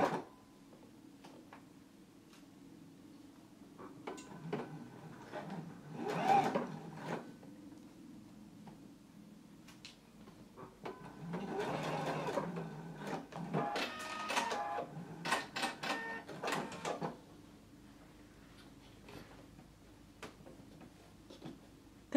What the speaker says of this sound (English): Now we can go to our sewing machine and baste across the top of our carriers.